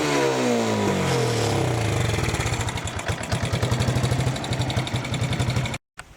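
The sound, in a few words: 1987 Yamaha YFM100T four-wheeler engine revving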